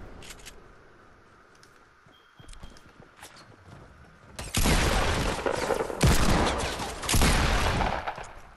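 Video game gunfire, a dense fusillade of overlapping shots that swells loud after a quieter stretch of scattered pops and footsteps, with no talk over it.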